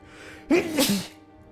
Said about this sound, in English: Bless me, just sneezing into the abyss